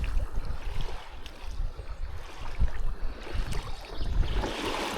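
Kayak running up onto a beach at Loch Lomond, Balmaha, with water sloshing and lapping around the hull, a few scraping bumps as it grounds, close and steady throughout.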